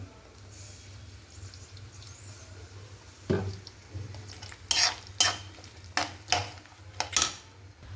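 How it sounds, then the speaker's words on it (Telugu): Broad beans frying slowly in groundnut oil on low heat for a chikkudikaya pickle, a soft low sizzle under several sharp scrapes and clinks of a ladle stirring against the pan. "వీటిని ఆయిల్లో సిమ్లో స్లోగా వేయించాలండి. నేను గ్రౌండ్నట్ ఆయిల్ యూజ్ చేశానండి."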